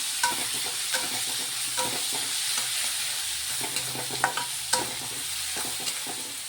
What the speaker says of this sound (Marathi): कांदा फ्राय झाला की मी त्याच्यामध्ये टाकणार